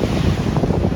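Sea waves washing against the shore by the old town of Cefalù in Sicily, a steady close surge of surf roughened by wind buffeting, with no voices over it.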